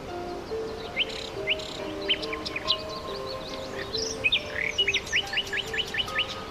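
Songbirds trill and chirp in short repeated phrases over a steady ambient background, with bursts of brighter whistled notes that grow denser toward the end; no voices are present.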